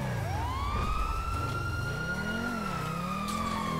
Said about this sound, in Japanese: なんかね、四つ股側ずっとサイレンの音聞こえんねんけど、救急隊来てんのかも、これ。